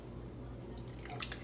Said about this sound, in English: I'm gonna go ahead and pour some water, again, into both of my pans.